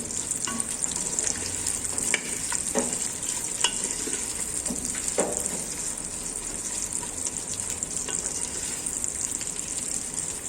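Dobradinha ingredients frying and browning in a thick pressure cooker pot on a gas stove, a steady, close sizzle with occasional crackles and pops throughout, no talking.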